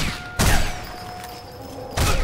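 Two loud gunshots roughly one and a half seconds apart in the video game Sniper Elite 4, each a sharp boom with a low thud, over a faint steady game background.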